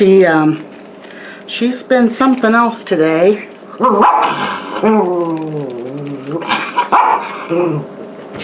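A dog barks and whines repeatedly in short, yelping bursts close by, while a person speaks briefly in between.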